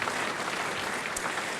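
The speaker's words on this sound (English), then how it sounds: "Let's give them a round of applause." Audience applause fills the room at a softball hall of fame induction ceremony, a steady dense patter of many hands clapping, close and even throughout with no talk.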